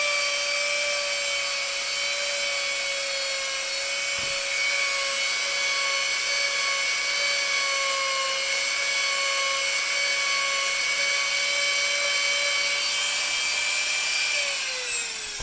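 EVA foam for cosplay being sanded with a rotary sanding stone bit, a steady high-pitched motor whine over continuous rough grinding that runs without pause at close range.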